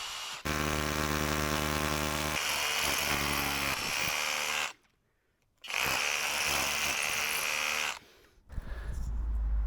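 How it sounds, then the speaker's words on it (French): An electric drill bores through plastic and then into concrete to mount a Zosi security camera. It gives a loud, close, sustained whine with two short pauses between bursts, and no one speaks. "je perce d'abord le plastique et après, je viens perforer le béton"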